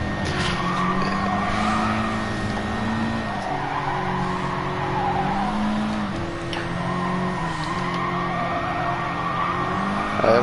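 Race cars from the Gr.4 class racing at Suzuka in Gran Turismo Sport, with steady engine drone, braking and tire squeal as one car slips past another on the inside, continuous and close throughout.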